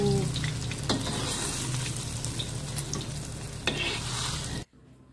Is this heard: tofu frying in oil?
yes